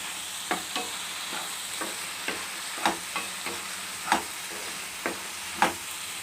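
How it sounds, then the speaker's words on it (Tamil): Onion, tomato, coriander and mint leaves are sautéed in a pan for a vegetable paya, with a spatula scraping and tapping roughly every half second over a soft, constant sizzle. "இப்போ வெங்காயம் தக்காளி மல்லி புதினா எல்லாம் நல்லா வதங்கிருச்சு"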